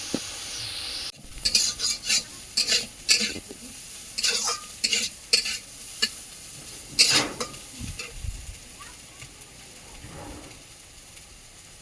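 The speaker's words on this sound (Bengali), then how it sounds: "দিয়ে আমি একটু ভেজে এবার নাড়ে চেড়ে ভেজে নেবো" Food frying in a pan while being stirred and turned, with sizzling and repeated scraping, clattering strokes of the utensil against the pan, close and fairly loud, no talk over it.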